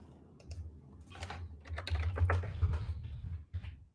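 Keys clatter on a computer keyboard in a short, close burst of uneven taps over a low background hum, with no talking.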